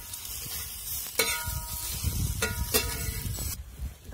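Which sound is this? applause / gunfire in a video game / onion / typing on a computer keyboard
onion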